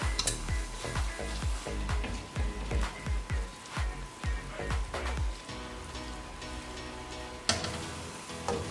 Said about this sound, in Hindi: अब इसमें चावल ऐड करेंगे।